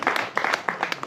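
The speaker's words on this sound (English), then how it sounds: "A round of applause for all of us who celebrate our birthdays in May," A brief burst of audience clapping at a GBC celebration for the first African Director of TV, with distinct close hand claps in an irregular rhythm, loud and alone.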